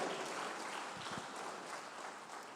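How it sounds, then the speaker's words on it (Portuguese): Church congregation clapping hands during a sermon, a faint wash of many claps continuing for a few seconds, distant and low in level. "Bata as palmas para o Senhor"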